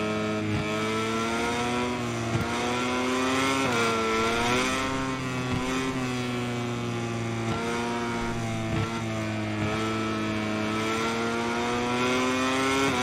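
Motorcycles race in the MotoGP 22 video game, with a Ducati and an Aprilia among them, engines whining at high revs with rising and falling gear shifts, close and continuous, no speech.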